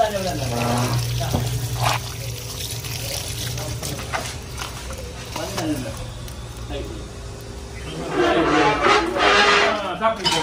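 Water runs from a tap as feet are washed before entering an oyster mushroom growing room in Kota Bharu. The splashing trickle comes and goes under someone talking, swelling louder toward the end.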